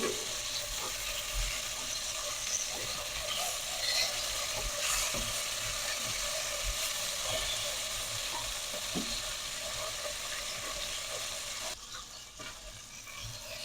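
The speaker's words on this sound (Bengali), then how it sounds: "মাছগুলো উল্টাইয়া দিব এখন" Poa fish frying in a pan of oil after being turned over, giving a steady, crackling sizzle that runs continuously with small pops and scrapes, easing slightly near the end.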